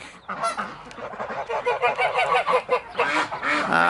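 Several Pilgrim geese honking close by on a farm in a busy, overlapping chorus of nasal calls, loud and continuous.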